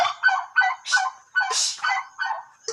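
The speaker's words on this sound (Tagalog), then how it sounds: "Nagugulo yung mga pabo." Several turkeys gobble in quick, excited bursts, one call after another with short gaps, loud and near, no voices.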